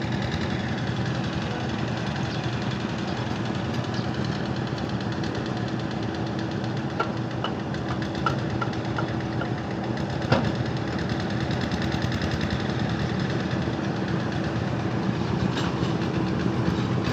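A car engine runs steadily at a Thai rural house-building site, a continuous rumbling drone with faint rattles and clicks layered on top, holding the same level throughout.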